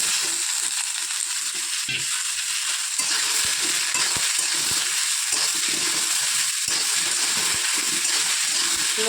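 Potatoes, peas, green chillies and tomato fry in a pan with a constant loud hiss and sizzle, broken by scattered light clicks and taps of a stirring utensil, close up with no speech.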